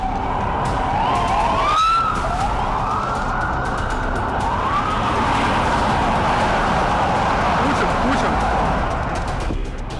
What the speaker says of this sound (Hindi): और फिर आधी रात अचानक पुतिन के काफिले का सायरन गूंज उठा।